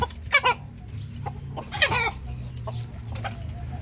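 Chickens cluck in short bursts inside a backyard coop, a few sharp calls standing out over a steady low hum.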